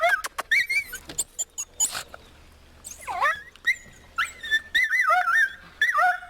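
An injured dog with a hurt leg whimpers and whines in rural countryside, a run of close, high, wavering cries interspersed with short sharp sounds and brief pauses.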